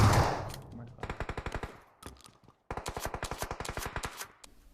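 Rapid video-game shotgun fire in two dense bursts of sharp, evenly spaced shots, loud and close, with a brief lull between them.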